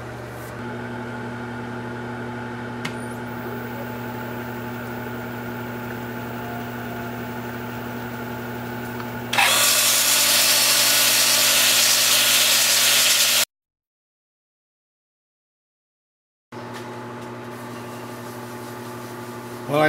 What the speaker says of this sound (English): Time for sanding.